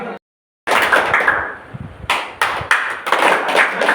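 Hands clap together in a group counting exercise at a drama and yoga workshop, several loud unison bursts after a brief silence, close and crisp.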